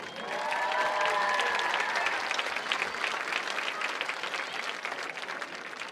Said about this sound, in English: Once again, let's please give the 2025 homecoming court a round of applause.